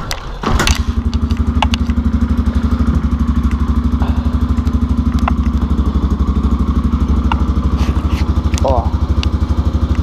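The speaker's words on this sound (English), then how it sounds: "that's an 18 degree cold start right there" A motorcycle cold-starts at 18 degrees in snow during the 2017 New York blizzard: a sputtering catch and thump, then a loud, steady, close rumbling idle that runs throughout.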